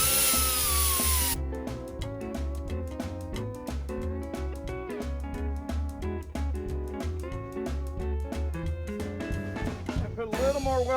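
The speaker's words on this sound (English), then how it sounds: "We gonna sand the ends of these down." A power sander grinds down the ends of banjo steering wheel pieces on a 1932 Ford hot rod build, giving a rapid, continuous buzzing with rhythmic pulsing, loud and close.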